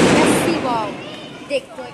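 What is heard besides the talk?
firecracker exploding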